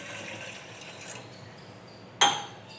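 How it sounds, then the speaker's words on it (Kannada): Water from a glass poured into a pot heating on a gas stove: a steady soft wash of pouring for about two seconds, then a sharp, louder splash near the end. "ಅದಕ್ಕೆ ಒಂದು ಗ್ಲಾಸಷ್ಟು ನೀರು ಹಾಕೋತಾ ಇದ್ದೀನಿ"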